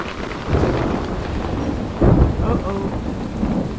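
A summer thunderstorm pours steady rain, with two deep rumbles of thunder rolling in close and loud over the constant hiss.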